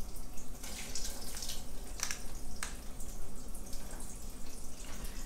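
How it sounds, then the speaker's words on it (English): Water running and trickling from a container as it is strained off thawing crappie fish, a steady near splashing flow with a few brighter drips and pours, no talking. "there's a little bit of water in here, so I'm just going to strain off some more."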